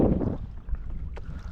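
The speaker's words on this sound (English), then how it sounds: "So we got wind" Wind buffeting the microphone out on the water while kayak fishing off Sanibel, Florida, a low rumbling gust that is strongest at first and then settles into a softer steady rush.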